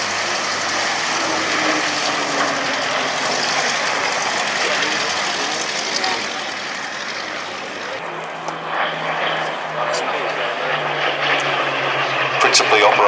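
Hawker Hurricane piston fighter taxiing past at an airshow, its engine a steady loud rumble with a shifting drone that changes tone midway, while a commentator talks over it.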